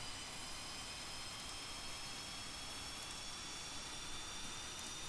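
An F-5E jet engine in the flight simulator DCS runs at a steady broadband roar with a faint high whine and hiss, constant and fairly quiet with no talk over it.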